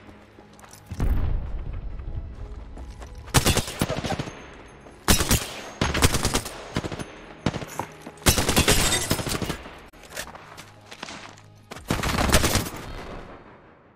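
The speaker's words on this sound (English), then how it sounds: "I am taking fire" Rapid video game gunfire rattles in loud repeated bursts, with heavy automatic volleys and booming shots broken by brief pauses, and no talk over it.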